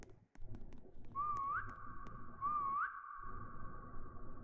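A game character in Roblox whistles two rising, sliding notes a second apart, clear and fairly loud over a busy background of game sounds and music.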